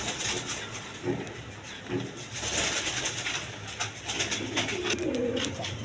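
Pigeons for sale at a colored-pigeon market coo in soft repeated low calls amid a busy, steady crowd hum, several birds close together.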